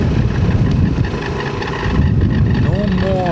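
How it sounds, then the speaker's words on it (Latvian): Strong wind buffeting the microphone outdoors, a loud, steady low roar with gusty surges throughout, with a voice briefly audible under it toward the end. "baigais vējš."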